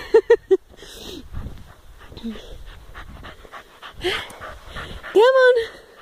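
A puppy out in the snow pants and whimpers in short bursts, close by, breaking in among a child's chatter and other voices.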